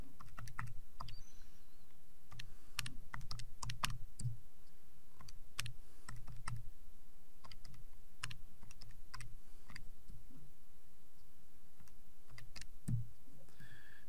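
Numbers being typed on a computer keyboard, with irregular bursts of crisp key clicks spread steadily through the whole stretch, close and fairly quiet, with no voices.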